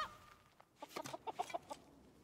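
A chicken in the video game Raft lets out a short series of quick, clipped clucks, fairly close and moderately loud, with no voices over it.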